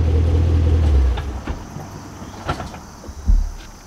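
A manual-transmission car stalls as the clutch is released without throttle: a loud, close engine rumble holds for about a second, then dies away, leaving a few scattered clunks and knocks.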